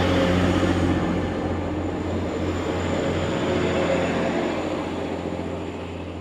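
A train at a railway platform bound for Manchester Piccadilly, a loud, continuous rumble and hiss that slowly fades.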